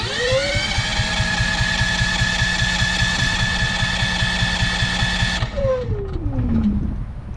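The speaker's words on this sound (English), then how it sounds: "Hit the start button. It's gonna try to get all that air out," A GENMAX GM10500iETC inverter generator running on natural gas cranks and fires, holding a loud steady engine drone for about five seconds before it cuts out and the pitch sinks away as it winds down.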